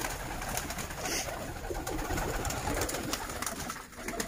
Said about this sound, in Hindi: कबूतरों को हम दाने के लिए बुला रहे हैं।